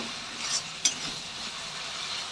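Spices stirred and frying in a pan with a splash of water for the masala of a daler bori torkari, a soft steady sizzle broken by a couple of brief scraping stirs, close and fairly quiet.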